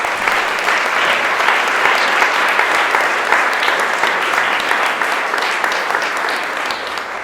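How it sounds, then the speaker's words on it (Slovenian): A concert audience at a spring choir festival in Slovenia claps for several seconds in a full, even burst, steady throughout and tapering slightly at the close, with no speech. "En aplavz, prosim."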